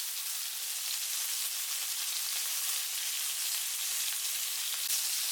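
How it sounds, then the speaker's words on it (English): Beef meatballs fry in hot oil in a pan, giving a dense, constant, bright sizzle that stays steady and close throughout, with no voices. "When the oil is hot, add the meatballs. Let them grill."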